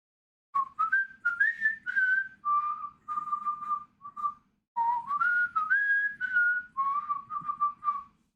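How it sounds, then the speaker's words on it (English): A person whistles a melodic tune alone, a clear close whistle in two long phrases with sliding, wavering notes and a short break between them. "That was me whistling."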